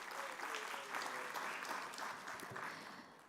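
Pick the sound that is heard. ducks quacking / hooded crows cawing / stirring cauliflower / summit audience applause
summit audience applause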